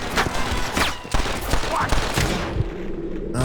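Gunfire from the Red Dead Redemption video game on PC rattles in rapid, dense bursts of sharp shots with loud, close impacts, with a voice talking over it.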